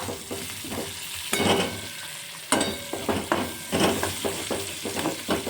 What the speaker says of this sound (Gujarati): હવે ફ્રેન્ડ્સ હું ડુંગળી એડ કરીશ અડધા કપ જેટલી ડુંગળીનું પ્રમાણ તમારા ટેસ્ટ મુજબ કરી શકો છો